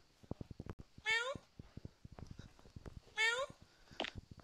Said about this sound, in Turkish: Kedi var.